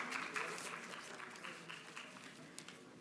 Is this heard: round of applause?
yes